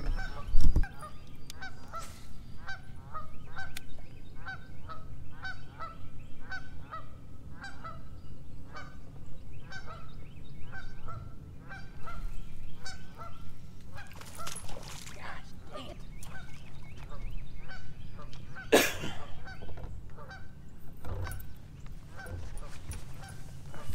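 Geese honk repeatedly near a fishing boat on the James River, a steady series of nasal calls over a low engine rumble, with a few louder bursts and a sharp clatter near the end.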